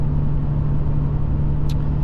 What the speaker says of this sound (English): So now I have my exhaust brake on